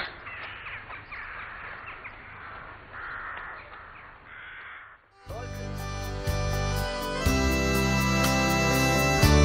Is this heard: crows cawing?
yes